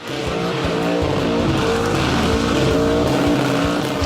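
A muscle car roars at high revs while its tyres squeal and skid continuously, loud and close, in an aggressive, smoky burnout before a crowd at the New Zealand burnout championships.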